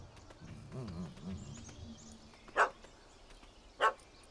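In The Witcher 3, a dog gives two sharp, separate barks against a quiet outdoor ambience, with a low murmur beforehand.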